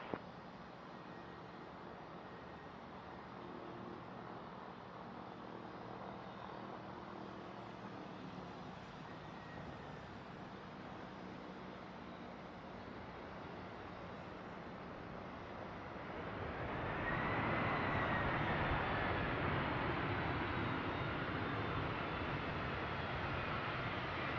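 A Cessna light aircraft taxiing at Boeing Field in Seattle, heard as a steady engine drone with wind noise that grows noticeably louder and nearer partway through, no talking.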